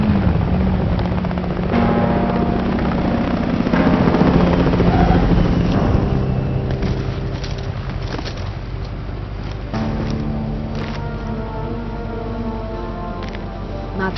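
A helicopter arrives in a Call of Duty zombies game scene, a loud continuous rotor and engine roar that dominates, with a dense layer of game effects on top and no speech.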